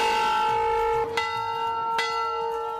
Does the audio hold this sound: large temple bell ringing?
yes